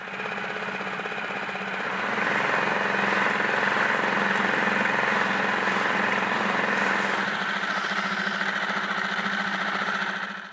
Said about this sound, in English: I was perfectly content puttering along in tick over.